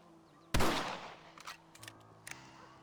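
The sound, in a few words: rifle shots in the video game Red Dead Redemption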